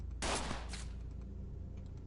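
A single brief burst of gunfire from The Xcom Files video game, a sharp blast followed by a quieter echoing shot, faint and short over a low background hum.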